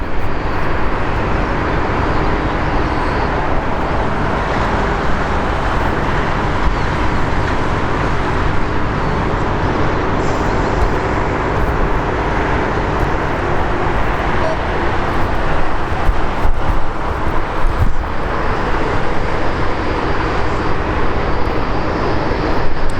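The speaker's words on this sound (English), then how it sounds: "Is that a Dreamliner as well coming out?" Boeing Dreamliner airliner moving at Heathrow Airport, a loud continuous jet engine roar and rumble heard from nearby and holding steady throughout.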